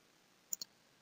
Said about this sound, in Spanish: le damos clic aquí en YZ